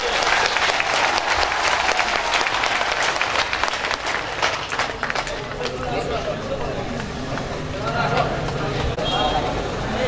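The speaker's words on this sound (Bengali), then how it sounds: "আমরা সকলকে দুহাত তুলে করতালির জন্য অনুরোধ জানাচ্ছি" Sustained audience applause at a ceremony in a large open venue, dense and loud clapping filling the whole stretch, easing slightly midway before swelling again, with crowd voices mixed in.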